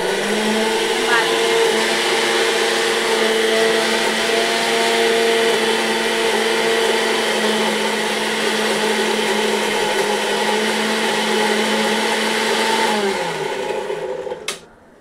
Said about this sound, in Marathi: मसाला आता पिसून घेऊया।